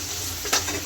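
Chopped onion, garlic and ginger being stirred in a hot pan for a Punjabi dal tadka: one short spatula scrape rises over a soft, steady sizzle.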